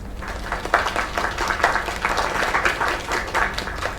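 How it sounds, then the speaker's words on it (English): In the video game Lake, an audience applauds for a singer: steady, moderately loud clapping from a small crowd that continues without pause. "Another round of applause."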